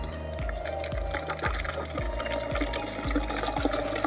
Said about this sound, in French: Maintenant, on peut vidanger toute l'eau.